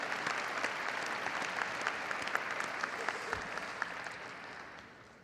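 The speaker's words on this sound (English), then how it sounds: "you might want to take a moment to applaud some of the great faculty who have changed your lives" A crowd at a university business school commencement applauds its faculty, a thick, even wash of clapping with a few sharper individual claps standing out, fading slightly toward the end.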